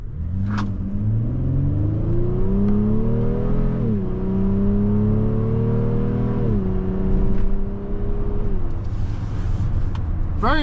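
Engine of a 2025 Honda Pilot SUV pulling hard from inside the cabin after a downshift, a loud steady drone whose pitch climbs, drops at a shift, climbs again, then eases off.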